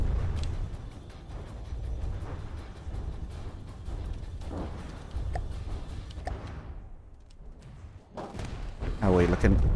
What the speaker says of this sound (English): Magazine explosion.